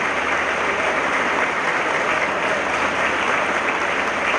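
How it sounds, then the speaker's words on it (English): Loud, steady applause from an audience at a Presidents Day ceremony honoring Vietnam-era veterans, a dense continuous clatter of clapping hands filling the room with no talk over it. "It took your applause to bring them forward."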